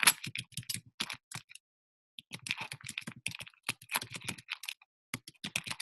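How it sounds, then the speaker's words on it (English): Keys clatter on a computer keyboard in quick, close bursts of typing, with one brief pause before the tapping resumes at a steady pace. "I hit enter to give me a little bit more space and write something"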